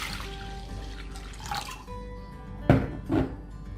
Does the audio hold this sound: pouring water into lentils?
yes